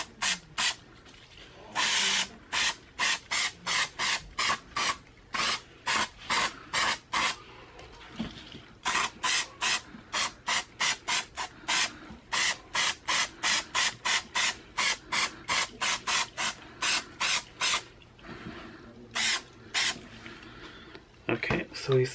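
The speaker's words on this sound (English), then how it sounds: "So let's shake up the can, spray it again." Rapid, repeated hissing bursts from an aerosol spray can sprayed onto suede, dozens of short sprays in quick succession with brief pauses, close and fairly loud.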